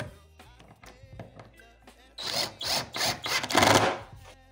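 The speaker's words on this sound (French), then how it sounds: "Et vous venez visser doucement" A drill drives screws into a wooden tabletop for a wood-and-steel chest of drawers, with short whirring bursts growing louder over a few seconds after some light clicks and handling.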